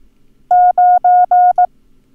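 A steady, loud electronic beep sounds the number 90 in Morse code: four long tones followed by a short one, with no talking.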